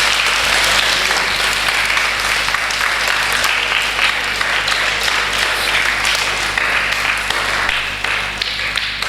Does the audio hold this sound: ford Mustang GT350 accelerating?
no